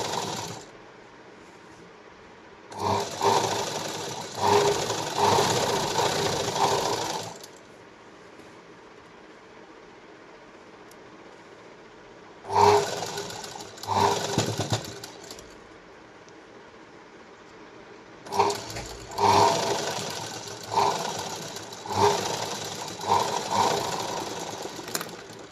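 Bursts of a sewing machine running double stitching on a blouse sleeve, three separate runs of steady mechanical whirring with quiet pauses between, close and fairly loud.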